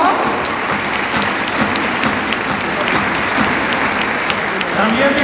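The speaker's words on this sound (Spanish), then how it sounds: "Que te oigan los aplausos" Loud, steady applause from a crowd at a sponsor presentation, dense clapping sustained throughout with some voices mixed in.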